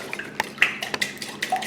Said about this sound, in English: we're going to take our whisk, and we're just going to very gently whisk this together